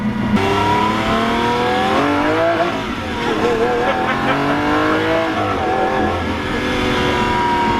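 A Lamborghini Aventador supercar with a single-clutch gearbox revs hard and loud and close, its engine note climbing and dropping through the gears, and a voice speaks faintly underneath.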